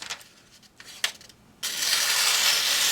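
A GEC #13 American Whittler pocket knife with a factory edge slicing through thin catalog paper, heard as brief scratchy rasps and then a loud, steady hissing cut held close up with no talk.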